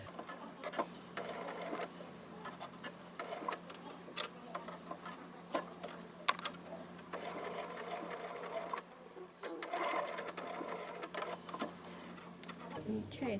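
Sewing machine stitching a felt book cover closure, a quiet steady run of rapid ticking stitches with a low hum underneath, pausing near the end, with occasional clicks and handling noises.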